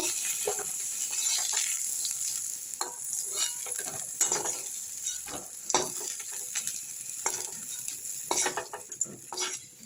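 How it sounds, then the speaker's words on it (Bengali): Flat beans fry in oil in a pan, giving a continuous sizzle broken by repeated scraping and clinking strokes of a spatula as they are stirred, close and without speech. "আমার শিমগুলো ভাজা হয়ে গেছে, দেখুন লাল করে এইভাবে ভেজে নিতে হবে"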